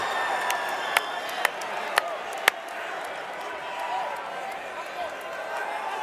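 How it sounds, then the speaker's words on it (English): A packed Mexico City arena crowd at a LUX 029 fight roars loudly and steadily, a dense wash of cheering with a few sharp claps or slams early on, beneath commentators' voices. "this might be the loudest crowd we've ever had here in Mexico City"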